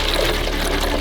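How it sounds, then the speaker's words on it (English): Water pours into a car engine's expansion tank in a brief, loud, continuous splashing gush that lasts about a second. "Now pour some water in there."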